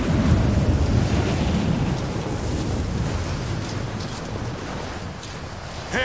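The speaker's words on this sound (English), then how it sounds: "This wind is crazy." Strong wind roars across a snowy mountain summit in the video game Tomb Raider, a steady, loud, broadband rush that fills the whole stretch without pause, with no talk over it.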